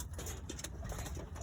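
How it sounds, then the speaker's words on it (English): Young pigeons or doves coo softly from their nest, faint and low amid steady background noise, with no voices. "It's my young birds. They still in the nest."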